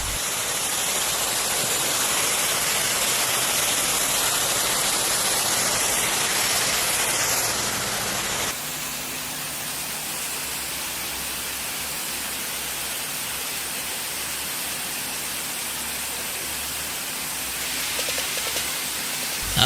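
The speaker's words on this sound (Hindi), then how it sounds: "चलो अब शावर में थोड़ी मस्ती मारी जाए," A shower spraying water over cows on a cow farm gives a loud, continuous rushing hiss that shifts abruptly to a slightly softer steady spray partway through.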